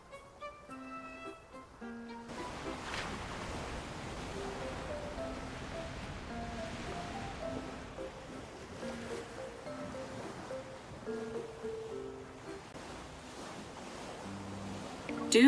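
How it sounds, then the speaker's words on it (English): Ocean waves wash in steadily on the eastern coast in the video game Love and Deepspace, a continuous soft surf under gentle background music. "The sound of the waves seems to be getting louder."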